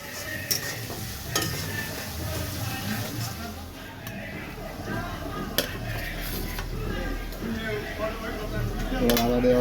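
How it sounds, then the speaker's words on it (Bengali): Garlic and chilli are stirred and fried in a pan, with continuous sizzling and repeated clinks and scrapes of a spoon against metal while someone talks over it. "রসুনটাকে মিক্স করা হচ্ছে।"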